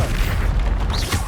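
A Confringo blasting spell explodes in the video game Hogwarts Legacy, giving a loud, sustained low booming rumble that fills the whole moment with dense, heavy blast energy.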